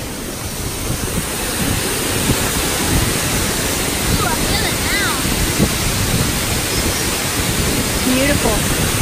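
Waterfall in Oregon's Columbia River Gorge, a steady loud broadband roar of falling water and spray filling the whole clip, with wind buffeting and people talking over it.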